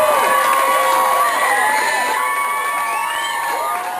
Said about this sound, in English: The noise was almost deafening as close to 300 Royal hockey fans jammed the CB's Lounge